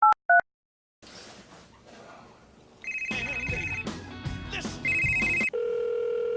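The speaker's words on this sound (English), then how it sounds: "Answer the phone." A telephone rings and beeps in tonal bursts, first two short tones, then a pause, then sustained electronic ringtone notes that step between pitches over a busy, music-like background.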